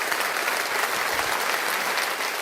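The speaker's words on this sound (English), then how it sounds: "Can you clap for that? We need to clap for that." Audience applause, a dense, loud and steady wash of many hands clapping together with no talk over it.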